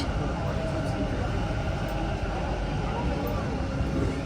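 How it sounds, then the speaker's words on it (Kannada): A metro train roars in with a loud, steady rumble and high whine. "ಬಂತು ಬಾ ಮೆಟ್ರೋ ಬಂತು"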